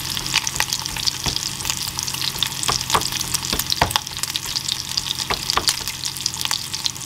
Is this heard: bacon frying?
yes